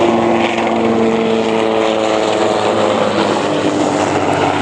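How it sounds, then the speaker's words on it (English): A helicopter flies in near a stadium, a steady, loud droning rotor and engine hum with harmonic whine that holds throughout without pause. "There's a helicopter coming in."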